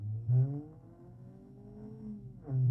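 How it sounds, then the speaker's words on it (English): A car engine revving up and roaring, a steady rising drone that swells loudly at the start, holds through the middle and surges again at the end. "Listen to it roar."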